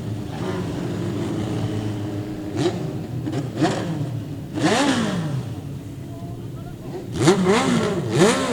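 Legend race cars rev and roar past on a victory lap at Augusta Margaret River Speedway, with engine notes swelling and fading as they pass, under continuous trackside commentary.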